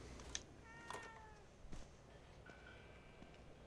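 A cat in the video game The Evil Within 2 gives a few faint, short meows, quiet and spread out over soft background ambience.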